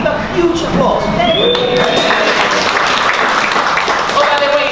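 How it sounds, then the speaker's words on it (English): An audience at an agile retrospectives session breaks into continuous, dense applause that fills the room steadily from start to finish, with voices and cheers mixed in. "Give a huge applause."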